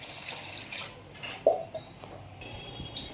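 Soft sounds of cold water being poured, with a few drips and light trickling, quiet and close, with brief clinks in between, while preparing an egg curry.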